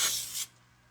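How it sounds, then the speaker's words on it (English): Cooking spray hisses from a can onto a cake pan while a dog's birthday cake is being made: one close, steady burst of about half a second, then quiet. "So what you do is spray the pan, not too much, just kind of around."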